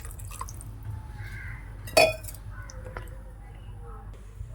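Water poured into a pot of fish curry seasoned with coconut oil, a single short splash at mid-clip rising over a low steady background with faint voice-like murmur.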